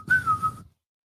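A man blows a whistle in one short sharp wavering blast that stops abruptly, heard alone and fairly faint.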